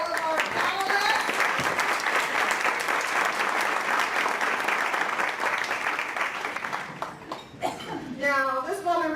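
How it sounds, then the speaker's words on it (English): A luncheon audience applauds its panelists, sustained clapping that holds strong for several seconds and then thins out as a voice starts speaking over the tail. "So let's give a round of applause to all of our panelists."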